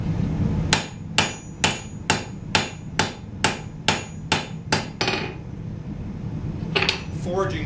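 A hammer strikes knife steel on an anvil at a forge, about a dozen sharp ringing blows in a steady rhythm, close and loud, followed by a quieter pause and a couple of lighter taps.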